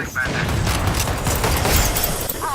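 Rapid gunfire in the tactical shooter Valorant comes as loud, dense overlapping bursts for a couple of seconds, with a brief voice at the end.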